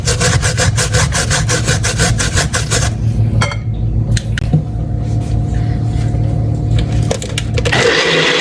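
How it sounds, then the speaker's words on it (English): Sweet potato is rubbed against a grater in rapid, rhythmic rasping strokes, loud and close, then the strokes break off into scattered scrapes and knocks before a final rough rasp. "I'm finishing grating my sweet potato"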